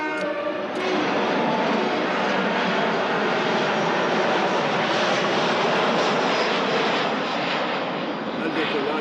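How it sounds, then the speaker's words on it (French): An airplane taking off and passing low over houses: a loud, sustained engine roar close overhead that holds steady for the whole stretch, with a voice briefly audible at the start. "Le décollage, c'est affreusement bruyant, mais il y en a souvent qui passent en dessus de nos maisons."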